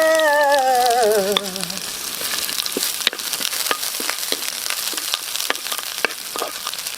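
Onions frying in oil for chicken estofado, a dense continuous sizzle with scattered sharp pops and crackles, close and without talk, after a fading tonal sound at the start.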